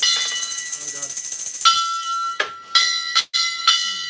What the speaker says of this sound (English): that's how you ring the gong